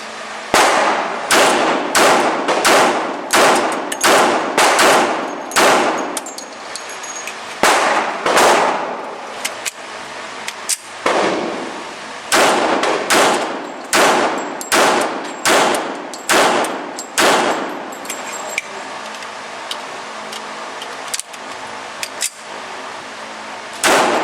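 A Ruger Standard pistol fires through three magazines, a long series of loud, sharp shots in quick, fairly even strings, with brief pauses between magazines and faint clinks between shots.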